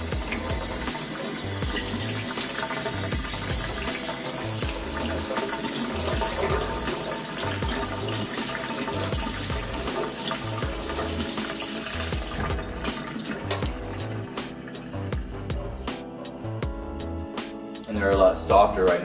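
Tap water runs into a sink while soaked pecans are rinsed, a steady close rush of flowing water that changes tone near the end, with a voice talking over it.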